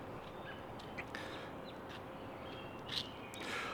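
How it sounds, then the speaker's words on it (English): Faint, scattered bird chirps and tweets over a quiet outdoor background hiss, a few brief calls spaced irregularly. "even the sound of birds chirping and stuff like that is quite nice"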